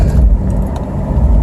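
A car engine with a performance muffler exhaust gives a deep, rumbling burble at close range as it shifts gears, steady and loud with no talking.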